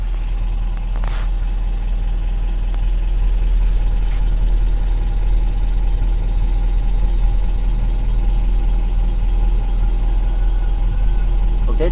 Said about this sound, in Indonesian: Saya dekatkan ini mic saya supaya bisa mendengar teman-teman putaran idle ini.